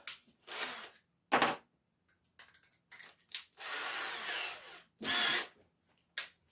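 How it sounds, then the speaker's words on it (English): A homemade sanding disc, a round of wood on a long bolt with sandpaper glued on, driven by a drill against woodturning chisels, whirs and rasps in several loud bursts separated by short pauses. "This is a little homemade device. It's just basically a round piece of wood with a long bolt through it and sandpaper glued to it."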